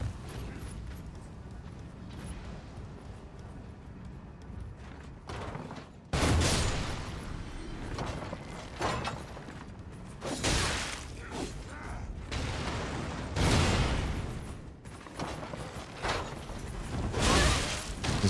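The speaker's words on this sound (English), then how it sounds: "they just turn because they hear the ballista shoot" Heavy bolts loosed from a ballista in Elden Ring, set in the Caelid region, come as a series of loud, sharp mechanical thumps with creaking at irregular intervals over steady game ambience.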